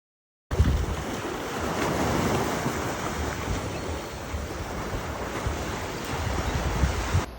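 Ocean surf at Eagle Beach, Aruba, a continuous broad wash of waves mixed with wind buffeting the microphone, steady and fairly loud throughout after a brief silent start.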